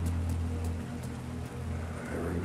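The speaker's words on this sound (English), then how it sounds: "And it's raining." Rain falling in the video game Alan Wake 2, a steady hiss of downpour with scattered drop patters over a low constant hum, evenly sustained and unbroken by talk.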